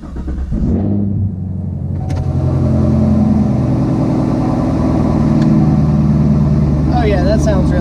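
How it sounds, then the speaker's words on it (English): A race car engine cranks and fires, then settles into a loud, rough idle with a deep, lumpy rumble that stays close and steady, while someone talks over it toward the end. "let's get the car fired up"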